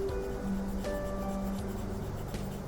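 A pencil shades a shadow on paper in a sphere drawing, giving a soft, steady scratching and rubbing close by with faint tonal hum behind it.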